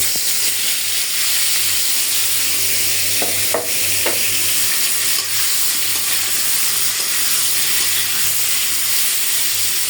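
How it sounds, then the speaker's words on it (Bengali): Pointed gourd rubbed with spices and salt frying in hot oil, giving a loud, dense, unbroken sizzle with a few brief scrapes partway through, close up and with no voices. "আমি কিন্তু পটল বাজি করব আর সেজন্য মশলাগুলো ভালো করে মাখিয়ে নিলাম এখন আমি তেলে দিয়ে দেবো"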